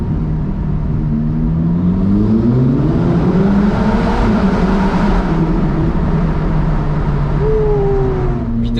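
A Ferrari Roma drives through a tunnel, its engine a loud, continuous rumble with rising and falling pitch as the revs change, echoing steadily throughout.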